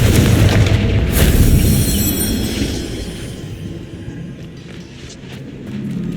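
A Confringo fire-blast spell from the Hogwarts Legacy video game bursts into a loud, heavy boom with a rumbling low tail that slowly fades over several seconds, with no voices present.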